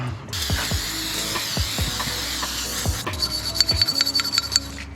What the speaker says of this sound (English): Little wire brush helps just get the stuff off.